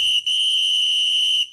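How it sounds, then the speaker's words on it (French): A whistle blown to signal the end of a football match debrief: one long, loud, steady blast with a brief break near the start, then silence. "On va siffler la fin."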